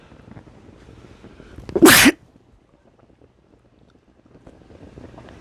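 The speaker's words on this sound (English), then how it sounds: "That's a sneeze, not a cough." A single sharp sneeze from one person bursts out loudly and close, lasting a fraction of a second amid quiet, muffled background noise.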